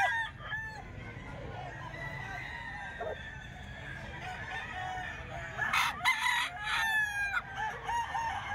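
Gamefowl stags and a hen at a Filipino sale pen cluck and crow, roosters calling loudly over a noisy outdoor background with some nearby chatter.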